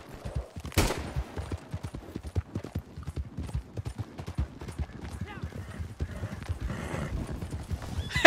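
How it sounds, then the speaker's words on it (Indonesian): Hooves clip-clop in a quick, steady rhythm as a horse gallops in the video game Red Dead Online, with a loud whinny near the start and faint noises in the background. "Kuda siapa tuh?"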